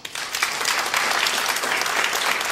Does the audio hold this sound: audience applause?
yes